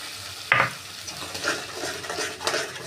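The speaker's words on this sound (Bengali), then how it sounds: "দিয়ে আবারও ভালো করে মশলাটা কষিয়ে নেব" A spoon scrapes and clinks through a poppy seed and cashew paste with tomato frying in oil, one sharp clank early, then steady stirring over a low sizzle, close and without voices.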